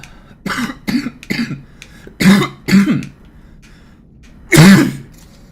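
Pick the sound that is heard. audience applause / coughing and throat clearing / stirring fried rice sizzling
coughing and throat clearing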